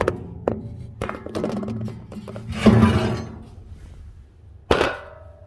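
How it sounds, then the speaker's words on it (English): The metal door of a refurbished offset trailer smoker is worked open and shut, giving a string of sharp metallic knocks and rattles, a heavy resonant clang in the middle and a final hard bang, close and loud with no talking. "So I'll show you this door."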